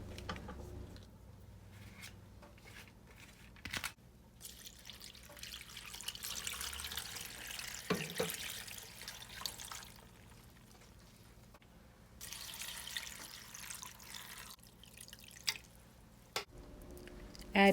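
Water is poured from a tap into a large pot of chopped collard greens, a quiet splashing and trickling flow with occasional drips and clinks, faint and close, running in uneven stretches over nearly twenty seconds.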